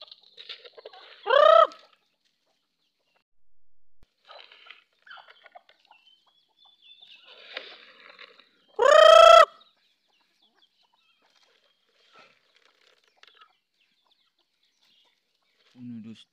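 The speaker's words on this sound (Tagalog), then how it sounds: "magpakain muna tayo ng mga alaga natin, mga manok" Two loud, sharp chicken squawks ring out several seconds apart as chickens are fed corn, with soft clucks and scratching in between against a quiet background.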